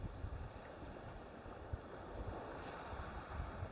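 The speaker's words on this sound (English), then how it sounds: "I thought that was a bite, but it's just the wind" Wind blowing steadily at the seaside during a fishing session, a faint continuous rush with gentle buffeting against the microphone and no voices.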